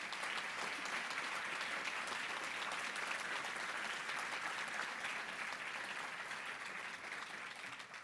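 An audience at the Ventura Chamber of Commerce Poinsettia Awards applauds the award recipients in a steady, dense wash of clapping that holds for the whole stretch and eases slightly near the end.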